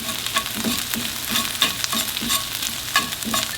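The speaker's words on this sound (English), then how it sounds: "sugar in the tomato paste will actually caramelize and give you a real nice flavor if you can just get it to brown on the bottom of the pan here" Tomato paste browns and caramelizes in a pan, frying with a steady close sizzle and rhythmic spoon scraping against the bottom.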